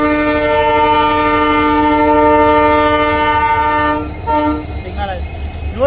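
The 22680 Hassan–Yeshwanthpur Intercity Superfast Express sounds a long, loud, sustained horn blast up close. It then cuts off into rolling rail noise, with a voice speaking briefly at the end.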